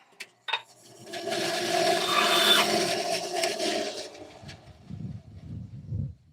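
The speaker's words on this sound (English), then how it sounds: "I'm just gonna cut this up on a bandsaw" A bandsaw cuts a large wooden turning blank with a sharp start and a sustained rasping whine that fades over several seconds. Low knocks and rumbles follow.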